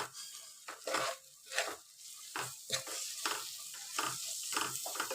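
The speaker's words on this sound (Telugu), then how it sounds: "ఇప్పుడు ఇవన్నీ ఒకసారి మనము కలుపుకోవాలి" A spoon works ginger paste and spices around a hot pan for paneer masala curry, making rhythmic scraping strokes over a soft sizzle, close up with no talking.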